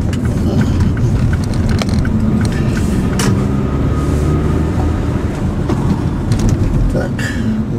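A car pulls away and drives on, its engine and road noise forming a loud, continuous rumble up close with occasional creaks and clicks from inside the cabin.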